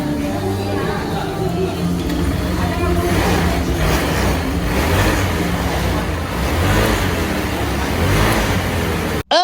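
A Honda Vario 150 motorcycle engine running after a new battery is fitted, a loud close engine note with revving swells and steady mechanical roar, ending abruptly.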